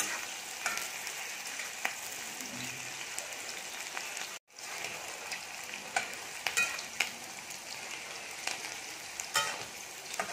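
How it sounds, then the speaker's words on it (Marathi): Green chilies fry in a pan of hot oil for sooji upma, giving a steady close sizzle and crackle with occasional spatter pops and a brief break partway through. "मिरची चांगली भाजून घ्यायची आहे।"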